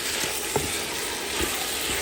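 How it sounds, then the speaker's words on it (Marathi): Mutton pieces sizzle in a pan with onions and ginger-garlic paste, a steady close hiss of frying with a couple of soft stirring clicks and no talk. "मटण घालून बरें तळसून घेवप"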